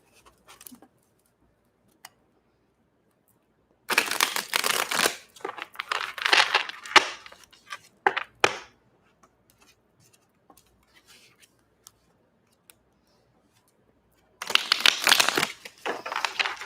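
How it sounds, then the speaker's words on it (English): Tarot cards shuffled by hand in dense riffling bursts, loud and close, separated by quiet stretches with small taps and handling noises. "you can feel free to fast forward through the shuffling"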